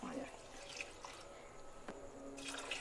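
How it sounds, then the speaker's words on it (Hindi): Water is poured over rice in a pot for chicken biryani, giving a soft, continuous splashing and trickling with a few small drips, faint and close, and occasional faint voices underneath. "3 गिलास चावल थे, मैं 4 गिलास पानी डालूंगी"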